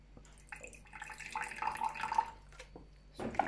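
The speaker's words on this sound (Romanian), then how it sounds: "Adăugăm și aici apă până la dizolvarea completă." Water poured from a tap into a lab vessel holding potassium salts to dissolve them, a steady splashing and trickling stream running for a few seconds, fairly close and moderately loud, with no talk.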